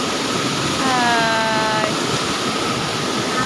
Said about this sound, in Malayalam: നല്ലൊരു വെള്ളച്ചാട്ടം കേട്ടോ